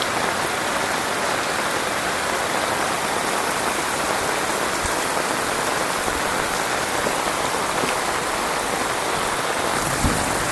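Flood water rushing along a village main road toward a mosque, flowing like a river with a steady, loud, unbroken roar and no pauses.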